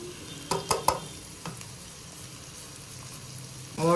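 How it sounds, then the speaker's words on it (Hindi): Spices frying in a pan for aloo bhujia, cooked with a tomato and onion masala, make a steady low sizzle. A few sharp stirring clinks stand out early, and louder scraping comes at the end. "मसाले को अच्छे तरीके से एक दफ़ा पकाएंगे"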